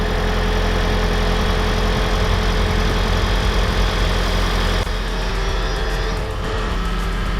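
A Toyota Prius Alpha hybrid switches over to its petrol engine and idles, giving a steady, close engine drone that shifts tone slightly partway through, with no talking.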